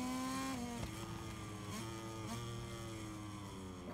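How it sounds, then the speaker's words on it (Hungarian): Motorcycle engine in the MotoGP 23 racing game, a steady high-pitched whine holding constant and shifting pitch as the bike accelerates along the track, loud and continuous with no talk. "Oké, beszitál a motor,"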